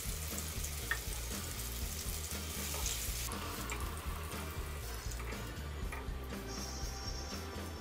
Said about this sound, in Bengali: সামান্য হলুদ গুঁড়া ও সামান্য লবণ দিয়ে ভেজে নিব মিষ্টি কুমড়াগুলো